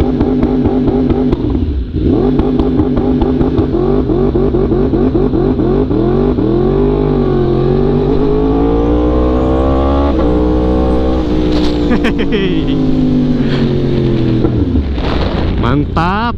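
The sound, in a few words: Yamaha R1M motorcycle engine revving on launch control, MotoGP-style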